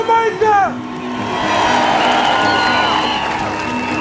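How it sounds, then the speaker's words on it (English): Demonstration crowd in London breaking into sustained applause and cheering after a short burst of speech, the clapping and shouts building into a broad, continuous roar that holds steady to the end. "applaud Jamaica"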